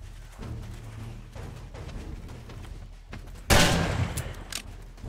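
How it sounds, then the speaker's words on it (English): A shotgun fired in the zombie survival game 7 Days to Die, one sharp, loud blast cutting through quieter game noise partway through. "I'm really bad at this shooting with the shotgun."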